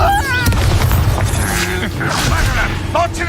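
A Depulso spell cast in the game Hogwarts Legacy, a loud whooshing magical blast with deep booming rumble, under shouted voices and other spell effects.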